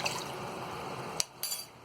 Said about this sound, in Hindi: और इसी में हम ये 1 कप पानी डाल देंगे